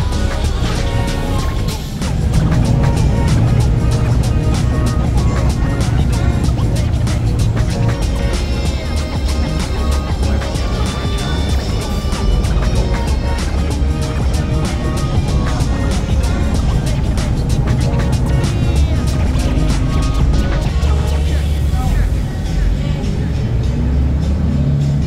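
A bus rides from Tagbilaran to Panglao Airport with a continuous loud cabin rumble of engine and road noise and music playing over it, steady throughout.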